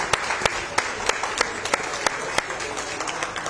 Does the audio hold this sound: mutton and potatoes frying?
no